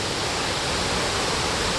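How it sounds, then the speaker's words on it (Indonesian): A waterfall pours down in a steady, dense rush of white-noise water, loud and close, unbroken for the whole stretch with no voices. "Nih, air terjun spesial"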